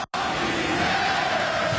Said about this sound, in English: They're chanting Crosby's better.